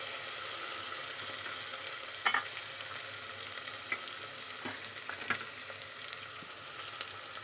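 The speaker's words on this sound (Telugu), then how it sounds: "ఇప్పుడు కొంచెం ఆయిల్ పైకి వెళ్తుంది కదా, ఇంకా బాగా ఫ్రై అయిపోయింది" Mutton paya curry base frying in hot oil with ginger paste to come, a steady close sizzle with a few sharp crackles and pops, no talking.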